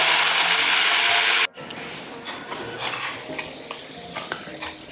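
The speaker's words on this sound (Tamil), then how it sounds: "இப்போ நம்ம இதை ஃபுல்லாக அரைச்சிக்கலாம்." A mixer grinder blending roasted Chettinad chicken masala for country chicken curry, a loud steady whir for about a second and a half that cuts off, followed by scraping and clinking of a spoon in the jar.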